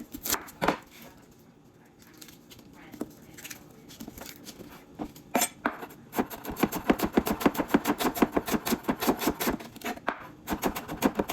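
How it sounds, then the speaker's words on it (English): A knife slices onions into thin julienne strips on a cutting board, starting with a few scattered cuts and then settling into a fast, steady run of close, crisp chops. "Here's my onions. I'm gonna go ahead and cut this julienne style."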